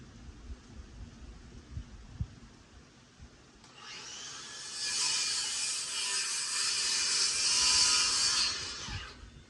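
A cordwood saw cuts through wood, coming in after a few seconds of quiet with a few faint knocks, then holding a steady, loud, high-pitched whine for about six seconds before stopping.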